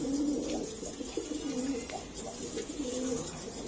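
A breeding pair of pigeons, male and female, gives soft, repeated coos close by in a quiet loft, with no talking.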